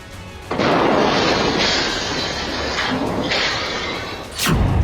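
A deep, heavy explosion boom rolls out and sustains with a rumbling tail, followed by a second sharp burst near the end, portraying the Christmas Day bombing in Nashville, Tennessee.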